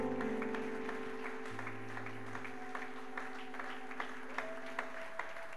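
A church congregation at an evangelical seminar applauds to welcome a pastor, with scattered claps over a sustained musical tone, moderately distant and fairly faint, no talking.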